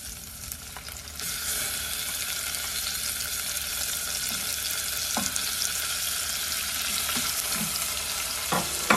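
Onion and tomato sizzle steadily in a hot pan for a mongo bean and squid dish, a continuous close frying hiss with occasional stirring scrapes and no talking.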